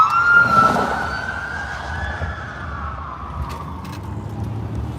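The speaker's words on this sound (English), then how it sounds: "We follow the racing police car." Racing police car siren wailing loud and close, its tone sweeping up and down over engine and road noise for about five seconds.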